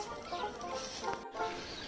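Hens clucking in a vegetable garden, a few soft, irregular clucks close by over steady outdoor background noise, with no talking.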